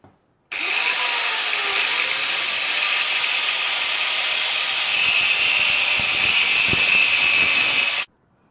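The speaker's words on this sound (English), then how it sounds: "that's the end result of giving a trim up with the grinder" An angle grinder trims down the flywheel sprocket of a Jawa Land Patrol motorcycle, running as one loud, steady, high-pitched grinding whine with metal contact for about seven seconds before it stops. Nobody speaks.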